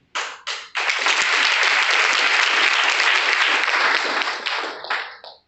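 An audience at a Hindi business-plan seminar bursts into applause: a couple of quick claps, then dense, steady clapping for about four seconds that thins out at the end, with no talking over it.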